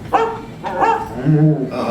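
A dog gives a few short barks and yips, close by, with a whimpering tone between them.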